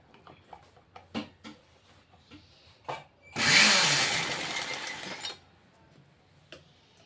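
A sewing machine stitching the shoulder seam of a princess-cut blouse, a close, steady whirring run of about two seconds, preceded and followed by scattered clicks and handling of fabric.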